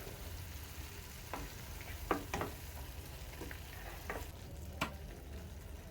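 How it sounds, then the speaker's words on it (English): Capsicum is stirred into wet fry goat meat with tomatoes in a pan, a faint steady sizzle with occasional soft spoon clinks and scrapes, and no voices. "I'm going to add in the capsicum. And mix them up."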